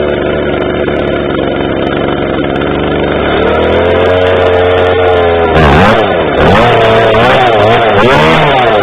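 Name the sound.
Stihl MS 250 chainsaw cold start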